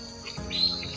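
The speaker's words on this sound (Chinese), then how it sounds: "那一堆鸟儿是干嘛？ 两个。 叫得那么欢快。" A pair of birds calls outdoors on a rural early morning, giving faint, brief chirps and tweets over quiet background hiss.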